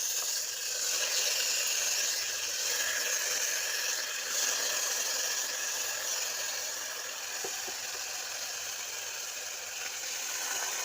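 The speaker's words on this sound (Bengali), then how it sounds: "এবার আমরা আস্তে আস্তে চিকেনগুলো একটুখানি ফ্রাই করে নেব।" Chicken pieces frying in a pan give off a steady, even sizzling hiss at moderate level, continuous throughout with no voices over it.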